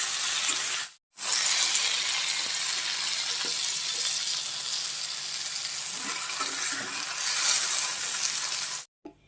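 Fried water lily stems sizzling in a pan as they are stirred, a close, steady frying hiss with soft scraping touches, cut briefly by two short silent gaps.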